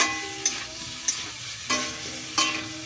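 Cauliflower curry with cashew, cumin, chili and ground coriander sautéing in a pan, a soft constant sizzle punctuated by four evenly spaced scrapes of a spoon against the metal.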